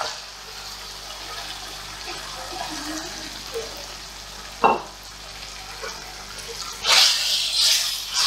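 Chicken liver goes into a frying masala where the oil has separated, giving a sharp burst of sizzle over steady frying, with stirring scrapes and a louder hiss toward the end.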